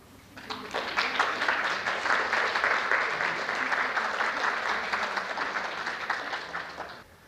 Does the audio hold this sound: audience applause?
yes